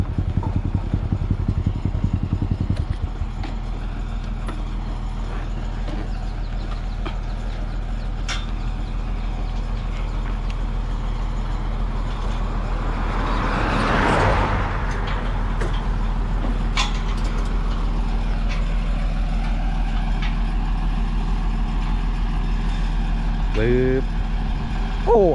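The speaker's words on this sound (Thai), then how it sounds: "จะหาที่หลบรถก่อนเดี๋ยวรถสวนมานะครับ" A motor vehicle drives past on a paved rural road, a steady engine drone that rises into a loud swelling pass midway and then fades, with a brief horn-like tone near the end.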